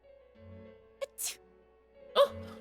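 A video game character in Persona 4 Golden gives a cute little sneeze, quick and soft, over quiet game background tones. A second short breathy burst follows about a second later.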